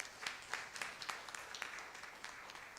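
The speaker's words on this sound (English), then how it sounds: "I want to encourage everyone in the room to actually just give you a round of applause" Applause from a conference room audience, faint and somewhat distant, with a steady patter of many hands and no talking.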